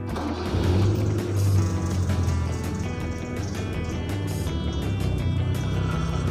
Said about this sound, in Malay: Jadi, kita hidupkan enjin.